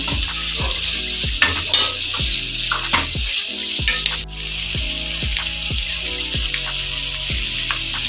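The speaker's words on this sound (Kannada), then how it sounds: "ಸ್ವಲ್ಪ ತೆಂಗಿನಕಾಯಿ ತುರಿಯನ್ನು ಹಾಕೊಳ್ತಾ ಇದ್ದೀನಿ, ನೀಟಾಗಿ ಫ್ರೈ ಮಾಡ್ಕೊಳ್ಳೋಣ." Grated coconut frying in a pan for bisi bele bath, with a steady close sizzle and repeated stir strokes scraping through it, one brief pause near the middle.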